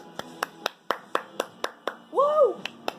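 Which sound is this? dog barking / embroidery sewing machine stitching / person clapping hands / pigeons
person clapping hands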